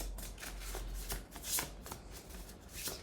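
Soft, steady shuffling of a tarot deck close by, continuous papery rustling with light slaps throughout.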